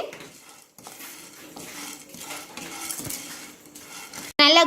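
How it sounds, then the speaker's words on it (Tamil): Chana dal is stirred in a frying pan, with a utensil steadily scraping and rattling the dry lentils against the metal up close, ending in a sharp clink. "நம்ம ஒரு ஃப்ரை பேன் எடுத்து கடலைப்பருப்பை போட்டாச்சு"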